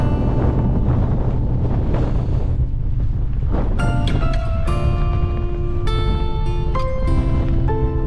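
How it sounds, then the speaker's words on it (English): Strong wind of 20 to 30 mph hitting a Nortent Vern 1 tent side on, a loud, steady roar and buffeting rumble, with ringing tonal notes rising over it in the second half. "this wind of between 20 and 30 miles an hour at the moment is coming directly, pretty much side on at the tent"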